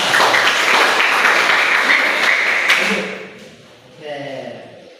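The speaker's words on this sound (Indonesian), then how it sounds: "tepuk tangan semuanya" A classroom of students claps together during a lesson, a dense burst of applause lasting about three seconds before it fades and a voice briefly follows.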